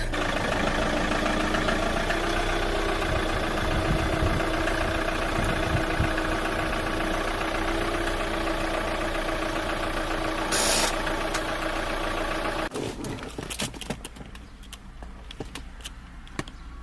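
Manual car engine idling while parked, a steady close hum that runs alone for about twelve seconds before dropping away into quieter rustling.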